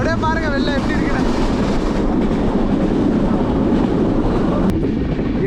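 Train in Bangladesh running over rough, poorly kept single track, a loud continuous rumble and rattle heard from inside a carriage, with a brief squeal near the start and a sharp click toward the end.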